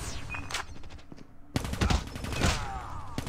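Cordite submachine gun hipfired in Call of Duty Mobile: rapid bursts of loud automatic gunshots, a brief lull near the middle, then another dense volley of shots up close.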